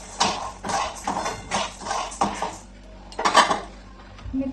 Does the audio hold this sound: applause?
no